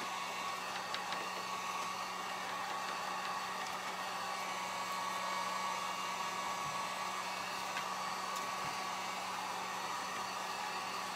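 A hair dryer blowing on painted craft pieces, a steady, even whoosh of air with a faint motor whine that runs continuously without breaks, no voices over it.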